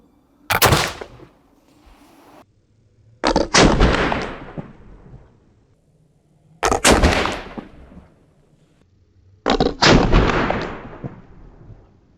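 Old-style flintlock-type muskets fired at a target in a pirate-era demonstration: four loud, separate booming shots spaced a few seconds apart, each with a sharp crack and a lingering echoing tail.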